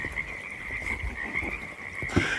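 A dense evening chorus of croaking frogs in woods near ice caves, steady and close. The frogs call continuously without speech, and a louder call rises near the end.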